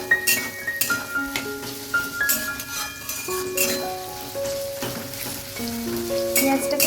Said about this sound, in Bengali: পেঁয়াজটাকে একদম লাল লাল করে ভেজে নিতে হবে